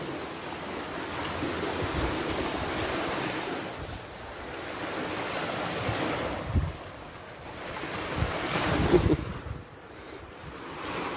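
Waves wash onto the shore of a clear lake in repeated surges, with wind rumbling against the microphone throughout and no voices.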